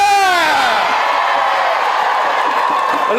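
Loud whoops and cheering from a big crowd of teachers marching at a street rally for pay and conditions, rising shouts settling into a steady roar of voices.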